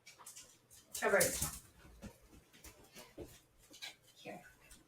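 A puppy whimpers softly at close range, with a brief louder cry near the start followed by faint whines and small noises in a quiet room.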